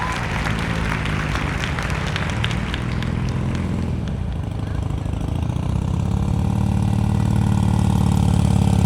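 Motorcycle engine at low revs during slow-speed riding practice in Texas, a steady mid-range drone with slight throttle swells, recorded close over constant wind noise, with a voice faintly present underneath.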